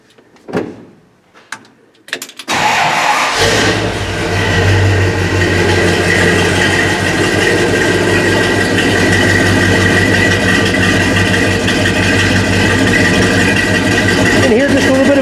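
A 1969 Ford F250 4x4 truck engine cranks briefly after a few clicks and knocks, then catches and settles into a loud, steady idle with a slightly lumpy cam rhythm that carries on to the end.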